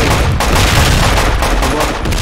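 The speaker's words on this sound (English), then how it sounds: "Big grenade launcher." Loud, continuous barrage of weapon fire in the military shooter Project Reality, with grenade launcher blasts blending into a dense wall of booms and gunshots with no pauses.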